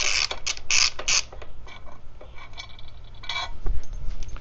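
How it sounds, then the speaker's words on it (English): Tools loosen 6mm hex bolts on a Royal Enfield motorcycle's front sprocket cover: close, repeated metallic creaks and ratcheting clicks in uneven bursts, loudest early, with a low mechanical rumble underneath. "So we're just removing these 6mm hex bolts for the front sprocket cover."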